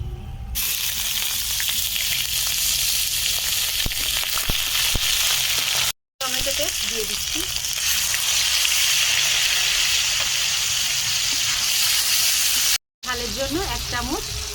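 Ginger paste hits hot oil already fried with asafoetida and dried red chilli, giving a loud steady sizzle and crackle that runs continuously with brief breaks, occasional stirring and faint voice underneath.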